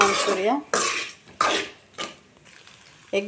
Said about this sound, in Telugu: ఇందులోనే క్యాబేజీ మంచూరియా వేసుకుందాం, మొత్తం బాగా కలుపుకోవాలి